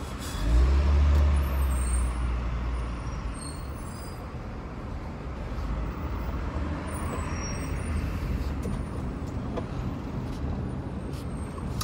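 A FedEx truck nearly collides with a car, its air brakes letting out a loud low hiss and rumble up close, followed by continuous road and engine noise from traffic; no speech.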